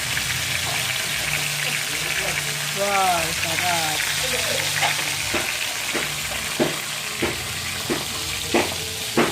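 Vegetables frying in a pan sizzle in a steady hiss throughout, with soft stirring and scraping clicks toward the end while a voice speaks briefly over the cooking.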